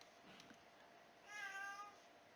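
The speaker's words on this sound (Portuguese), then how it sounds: "Anakin está miando" A pet cat called Anakin lets out a single short, faint meow in a quiet room, heard alone against a low background hiss.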